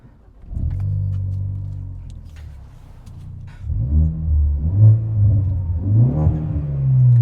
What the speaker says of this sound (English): let's just start the car and hear the sound of the car